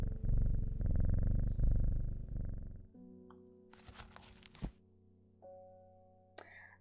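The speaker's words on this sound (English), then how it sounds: "That damn cat is setting off my allergies." A cat purrs in a video game set in a plant shop, a steady close rumbling purr for about three seconds, followed by quiet game sounds and short chimes.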